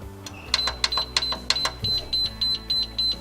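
An Ollieroo solid steel handgun safe sounds its alarm after three wrong password entries, giving a loud, close, regular series of sharp electronic beeps after a few initial keypad presses.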